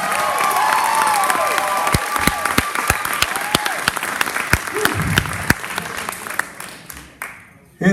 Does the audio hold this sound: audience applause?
yes